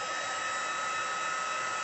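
Steady, loud rush of blowing air from a card-making heat gun on full heat, a constant broadband whoosh with a faint high whine, unbroken throughout.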